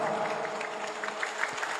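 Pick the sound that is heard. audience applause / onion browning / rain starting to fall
audience applause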